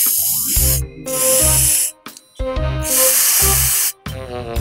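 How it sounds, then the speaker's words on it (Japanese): Aerosol hair spray blasting onto a Licca-chan fashion doll's pompadour hairstyle, in several long hissing bursts with short pauses between, loud and close, no voices. "リーゼントが崩れないように、さらにスプレーをかけて"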